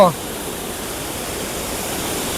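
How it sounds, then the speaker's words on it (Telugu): Pantamanu waterfall near Goppugodiselu roars in a steady, loud, unbroken wash of falling water after a brief voice at the very start. "చూడండి ఫ్రెండ్స్ వాటర్ ఫాల్ ఇంత బ్యూటిఫుల్గా ఉంది కదా"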